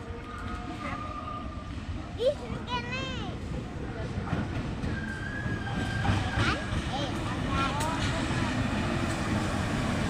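A CC 203 diesel locomotive shunts at Kutoarjo station with a low, steady engine rumble, broken near the start by a brief rising-and-falling horn-like tone. Voices and station noise carry on around it.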